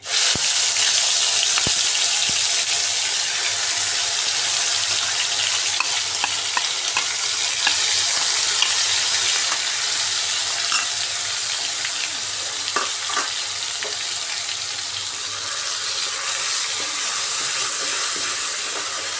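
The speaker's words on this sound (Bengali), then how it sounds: "এবার পেঁয়াজের পেস্টটা দিয়ে দিচ্ছি" Onion paste with a little sugar frying in oil for an egg and potato curry, a loud, dense close sizzle that holds steady, with faint stirring scrapes and no talk.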